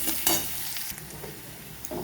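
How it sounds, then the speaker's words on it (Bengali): Onions frying in oil in a wok, a soft continuous sizzle broken by a few scraping stirs of a spatula, close and fairly quiet with no talk. "এবার পেঁয়াজগুলোকে একটু লাল করে ভেজে নেব"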